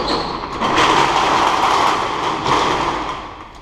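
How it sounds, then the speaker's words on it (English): Metal garage shutter doors rattle and clatter in gusty wind, a steady loud noisy rumble that swells and fades over a few seconds with no speech. "sorry about the noise, shutter doors rattling."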